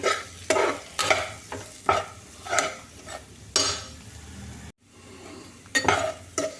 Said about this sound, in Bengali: এখানে এগুলো ভালো করে একটু খুন্তি করে নেড়ে দিই